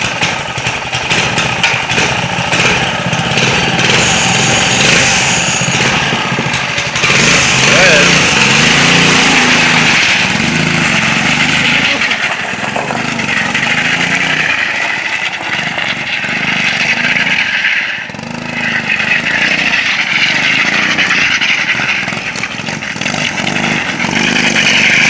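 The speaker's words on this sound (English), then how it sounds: "pull rope to the front now, so you know, possibly you could start it from the front of the machine" Small pull-start engine on a drift trike running steadily, a loud, buzzy, high-revving drone close by that holds throughout with slight dips in pitch, with voices partly under it.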